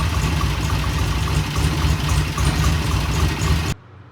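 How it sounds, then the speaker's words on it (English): The engine of a motorcycle being restored idles steadily and loudly up close, a continuous even rumble that cuts off abruptly near the end. "So now I've got it idling the way I like."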